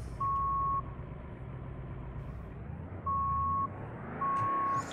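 Fire truck reversing in the Notruf 112 firefighting simulator, three evenly pitched electronic backup beeps sounding over a low engine rumble, loud and close with no talk.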